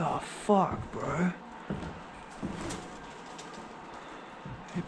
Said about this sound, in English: Hey, pigeons.